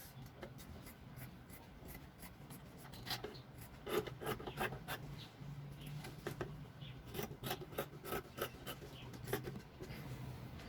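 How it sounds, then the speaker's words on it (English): Scissors trim excess fabric from the edge of a handmade throw pillow, giving faint, close snips and rasping cuts in a steady irregular series with no voices. "So we'll be trimming the excesses like"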